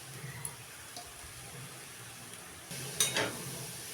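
Grated carrot goes into a pan of hot oil with a gentle, low sizzle close by, and the frying swells briefly louder near the end.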